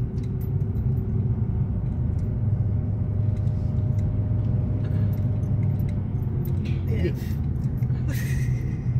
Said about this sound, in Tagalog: There's a bunch of traffic.